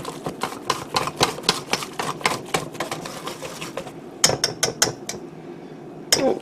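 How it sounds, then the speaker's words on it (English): A whisk mixes flour into a yeast, milk and water batter for crumpets, making quick rhythmic clicking strokes against the bowl that continue steadily. Near the end it slows to a few sharper, separated taps. "now we're just going to start mixing in the flour. And we're just going to whisk it till it's a smooth batter."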